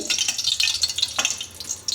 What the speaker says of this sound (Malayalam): ഇച്ചിരി വെള്ളം വീണ് കേട്ടോ അതാ സൗണ്ടേക്കിന് എണ്ണ തിളച്ചിട്ടുണ്ട്